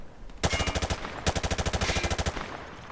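Hip-fired automatic weapon in Call of Duty MW2 Remastered, shot at range targets: two loud rapid bursts, the first about half a second long and the second around a second, each made of distinct cracking rounds, separated by a short pause.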